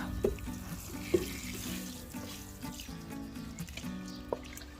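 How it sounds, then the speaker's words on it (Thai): Dissolved fertilizer water poured onto the base of a lime tree, a steady running, splashing stream with a few louder drips and plops standing out, close by and without speech. "ละลายเสร็จแล้วก็จะลดลงไปบริเวณโคนนะคะหรือว่า ลดตั้งแต่ใบลงมาเลยก็ได้นะคะ"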